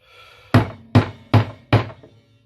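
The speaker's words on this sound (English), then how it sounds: "Just get the hammer." A hammer knocks staples into a wooden bee frame in four evenly spaced, loud, close blows, each a sharp wooden knock, then quiet.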